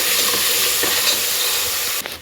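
Ginger-garlic paste sizzles and spits in hot oil in a pan for a tomato bath dish, a steady close frying hiss with faint stirring scrapes, ending in a brief clatter.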